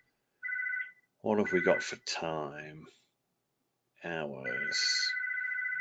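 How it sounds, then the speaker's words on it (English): A phone rings in the background with repeated electronic tones while people talk over it; the ringing comes in short bursts between and beneath the conversation. "excuse my phone ringing in the background"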